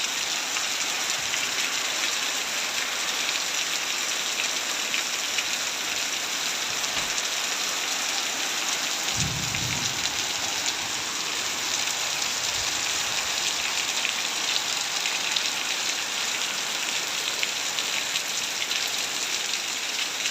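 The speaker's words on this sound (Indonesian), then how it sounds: "ini hujan" Steady, dense rain falls on a village in western Ponorogo, a constant close hiss with a brief low rumble near the middle. No one speaks.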